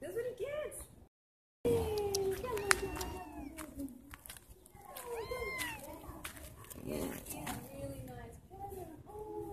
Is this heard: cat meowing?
yes